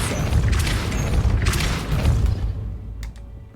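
A loud magical Depulso spell blast, a deep booming rush with crackling high-end bursts that swell and fade, ending in a couple of faint sharp clicks.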